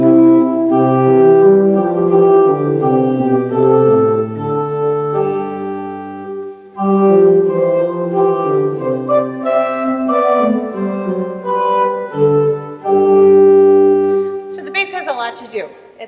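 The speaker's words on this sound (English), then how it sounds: "Let me just play the melody and bass line together for you so you catch that." Melody and bass line of the chorale "Sleepers, Wake!" played together on a keyboard instrument, two clear voices moving in sustained phrases with a brief pause midway and a soft noisy rustle at the end.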